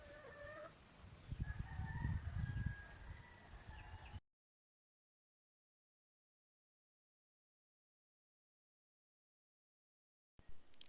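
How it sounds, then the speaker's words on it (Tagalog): Native hens cluck and call close by for about four seconds, with low rustling underneath, then the sound cuts to silence before a brief return at the end. "Ayan ang ating mga inahin na native na chicken."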